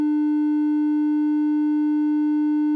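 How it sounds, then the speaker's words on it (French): A Game Boy sound chip holds a single steady tone from its triangle-wave voice for nearly three seconds, pure, unbroken and alone. "Une autre voix qui peut faire des ondes triangles."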